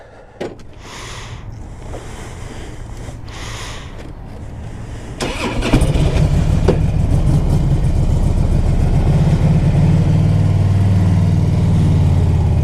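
A fuel-injected 2004 Harley-Davidson Road King Custom started cold on a cold day: quiet clicks and a brief crank, then the engine fires and settles into a loud, throbbing idle nearby.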